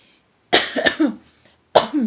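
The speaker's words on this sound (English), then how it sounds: "Coughing so much." Two bursts of harsh, close coughing, a double cough followed after a short pause by another, with quiet between.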